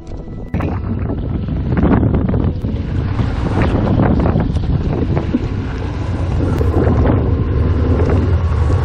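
Wet, strong wind batters the microphone on a rugged Newfoundland coast, a loud, constant roar with gusty buffeting that starts abruptly and keeps going, with no voices.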